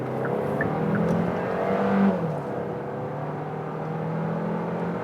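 A 2022 Kia Sportage GT-Line accelerating in sport mode, the engine note building steadily with a rising whir, peaking around two seconds before settling into a smoother cruising drone, heard close from inside the car.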